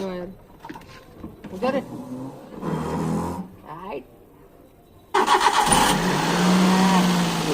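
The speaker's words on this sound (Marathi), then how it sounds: "झाली चालू गाडी" A car's engine cranks with the starter after a new battery is fitted, then catches and runs with a loud, steady idle close by, while people talk over it.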